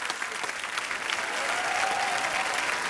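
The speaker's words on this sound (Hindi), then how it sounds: "जोरदार तालियां सुशील कुमार के लिए, भाईचुंग के लिए, नवराज सिंह और अंजू बॉबी जॉर्ज के लिए" Studio audience applauding loudly for guest athletes on a comedy talk show, a dense steady roar of clapping that swells slightly and holds through to the end.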